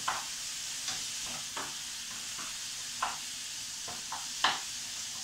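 Chicken and cauliflower simmer and sizzle in a pan for a cauliflower chicken gratin, with a steady hiss broken by several soft scraping stirs, close and fairly quiet, with no talking.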